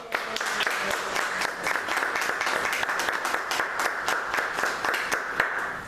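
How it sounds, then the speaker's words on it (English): A room full of people at a Brooklyn Tea Party meeting claps steadily for a guest speaker, a dense, sustained patter of many hands without a break, fairly close and even in loudness. "please give a round of applause to Steve Gillan"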